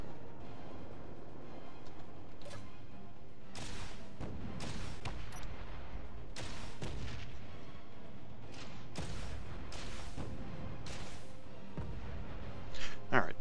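Weapon fire hits armor blocks in the space building game Space Engineers. Sharp impact bursts come at irregular intervals, about six to eight of them, over a constant low rumble.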